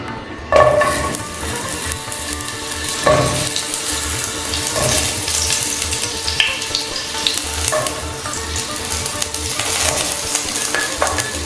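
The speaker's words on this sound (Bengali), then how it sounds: "এবার এক এক করে আমি অল্প অল্প করে পটল ভেজে নিচ্ছি" Pointed gourd (potol) frying in hot white oil for a Bengali moong potol dish, a steady loud sizzle with occasional clatter and stirring knocks throughout.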